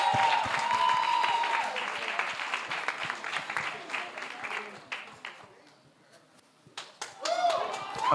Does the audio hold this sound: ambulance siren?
no